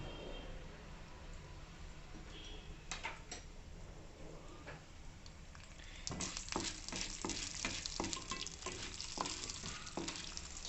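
Urad dal and chana dal dry-roasting over a low flame in a pan, giving soft crackling and ticking that grows denser and louder partway through, with occasional stirring scrapes and no talk.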